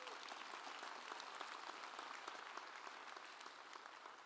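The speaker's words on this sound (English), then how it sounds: "That deserves a round of applause." Steady applause from a large crowd at a school superintendent's State of the Schools address, many hands clapping continuously at an even level throughout.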